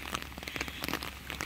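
Rain falls outdoors in a brief, soft, even patter of drops on surfaces, faint and with no one talking.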